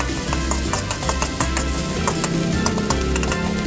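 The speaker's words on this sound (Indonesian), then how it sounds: "kita gongseng-gongseng sebentar seperti ini hingga matang ebinya" Dried shrimp (ebi) stir-fried in oil for a home-style water spinach and shrimp paste dish, giving a steady, close, dense sizzle with light stirring scrapes throughout and no voices.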